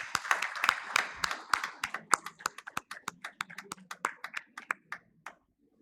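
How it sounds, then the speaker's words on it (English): A small audience at a valedictory session gives scattered applause that thins into a few separate, sharp claps and fades out, close and crisp, with no one talking. "Big applause for them."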